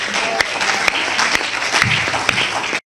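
A church congregation at a Brazzaville gathering of the Ministère Chrétien du Combat Spirituel breaks into steady, sustained applause, a dense wash of clapping from a crowded room that stops abruptly.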